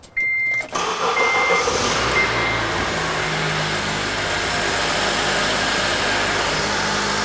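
A car engine runs steadily at idle for a power steering fluid flush, a close, constant hum that starts abruptly after a brief silence at the beginning, with no one speaking.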